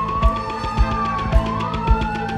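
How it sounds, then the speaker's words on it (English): Ambulance siren wailing in a continuous rising and falling tone, loud and fairly close, with regular low thumps underneath and no voices. "I remember clearly the ambulance sirens."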